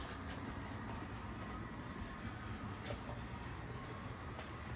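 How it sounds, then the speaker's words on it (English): Faint, steady rumble of a DC model train running along a Maine Central Mountain Subdivision layout track, with occasional light clicks over a constant mechanical hum. "with the train coming in now."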